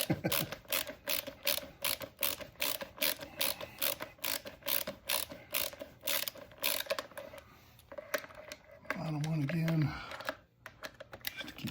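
A ratchet drives a long bolt for a motorcycle foot shifter on a Honda Africa Twin: quick, even clicking strokes repeat close up for most of the stretch, then pause as a voice briefly talks near the end.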